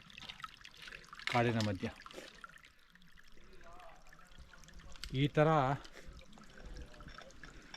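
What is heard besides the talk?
small stream of river water trickling in forest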